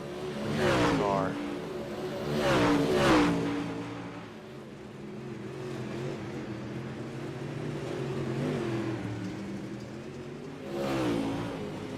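UMP modified race cars roar down the straightaway at a dirt oval, engines rising and falling in a few loud passing surges over a steady rumble, with people talking faintly underneath.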